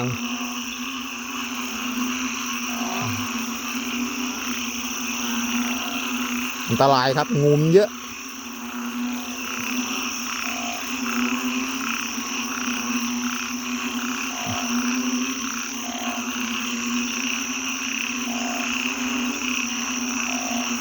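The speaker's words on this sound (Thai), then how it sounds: "อึ่งอ่างทั้งเขียดทั้งอะไรเยอะแยะมากเลยผม เสียงยังดังเลยครับ" A dense chorus of banded bullfrogs and other frogs croaks and drones continuously around a pond after heavy rain, with a brief stretch of someone speaking in Thai partway through.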